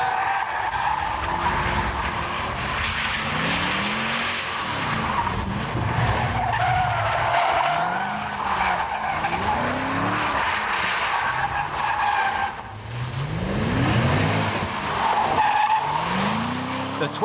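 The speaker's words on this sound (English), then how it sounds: "The 20-inch tyres have sent the ALPINA pirouetting round the barrels" An Alpina B6 on 20-inch tyres slides around barrels, its tyres squealing and skidding in long wavering howls over a steady engine roar, loud and close for the whole stretch.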